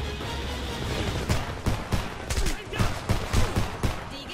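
Rapid bursts of gunfire in the video game Homefront, a loud crackling fusillade of repeated shots and impacts running the whole time, with no clear voice over it.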